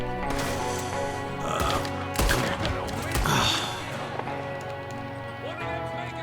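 Gunfire in Red Dead Redemption II, a few sharp shots popping amid busy game ambience with hoofbeats and commotion, heard under a player's talk.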